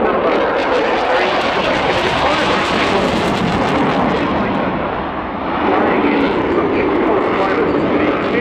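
A Saab Gripen fighter jet flying at the RIAT 2018 airshow, a loud, steady roar of engine noise that fills the whole stretch with a brief dip midway, while a commentator talks over it.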